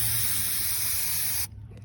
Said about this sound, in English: We just use a can of carb cleaner